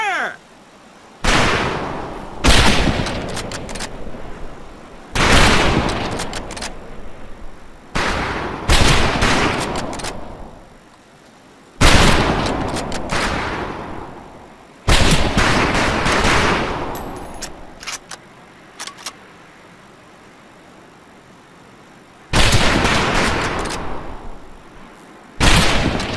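Rifle volleys on a training range in Medal of Honor Pacific Assault ring out in repeated loud bursts of overlapping shots, each burst followed by a short decaying tail, with near-silent gaps between them.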